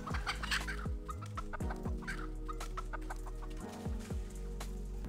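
A chicken clucks repeatedly in agitated, uneven bursts after being chased by a dog, loud and close with no talking.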